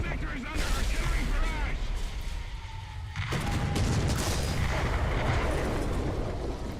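An artillery barrage in the War Thunder video game: dense, loud booming and crackling explosions blend into a continuous rumble, and a voice speaks over the barrage.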